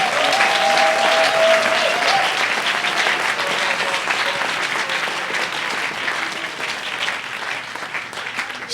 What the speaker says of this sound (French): Donnez une bonne main d'acclamation à Dieu.